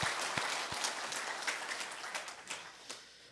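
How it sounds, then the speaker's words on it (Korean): A church congregation in Seoul applauds during an anniversary service, a dense wash of many hands clapping fairly close, steady and sustained, with a few sharper individual claps standing out. "우리 감사하는 마음으로 하나님께 감사의 박수를 드립니다."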